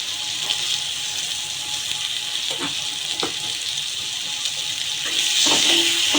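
Chopped onion fries in a pan with salt, a loud steady close sizzle throughout with a few scraping stirs, the crackle swelling louder near the end.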